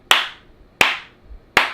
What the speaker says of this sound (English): I'm going to do my clap so I can sync it later